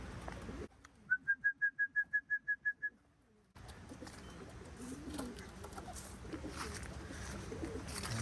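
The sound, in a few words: racing pigeons returning to loft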